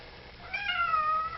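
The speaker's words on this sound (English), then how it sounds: "As ever, my cat is making mischief." A single cat meows once, a short rising-falling mew, nearby and fairly soft above a quiet indoor background.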